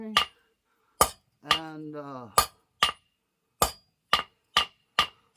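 Hammer blows ring on a metal candle holder, sharp bright clinks at an irregular steady pace, about ten strikes, close and loud, with a brief stretch of talk between them.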